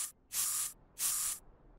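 Two crisp bursts from a spray bottle in the game Workshop Simulator, each about half a second of bright hissing mist separated by a short gap, close and clean with no voices.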